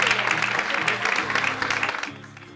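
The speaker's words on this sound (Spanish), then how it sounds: "Esos aplausos" Applause at a community celebration crowning the 2014 queen, dense clapping heard together with a low repeating musical tone, tapering off toward the end.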